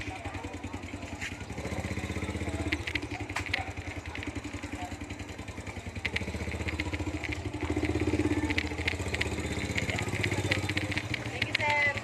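Motorcycle engine running steadily at close range, a continuous mid-pitched drone with clattering mechanical texture throughout, while people talk over it.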